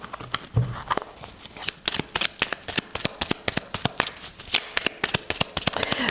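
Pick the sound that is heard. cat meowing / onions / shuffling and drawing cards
shuffling and drawing cards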